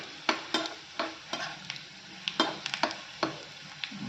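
Spices stir in hot oil in a pan for a spinach curry, close and sizzling, with a series of sharp, irregular spatula scrapes every half second or so over a soft crackle.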